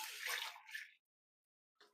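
Water runs into a rice pot from a tap in a kitchen, a short, soft splashing gush of under a second, then silence before a brief second trickle.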